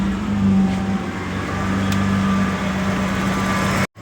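A 1987 Ford Ranger engine running steadily at idle with the A/C on, a close, even hum with a faint high whine, cutting off abruptly near the end.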